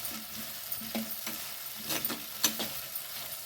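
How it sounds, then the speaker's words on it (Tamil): Onions sauté in a clay pot with a soft, steady sizzle, while a spoon scrapes and stirs at intervals, fairly quiet and close. "வெங்காயம் நல்லா வதங்கி சுருங்கிடுச்சு."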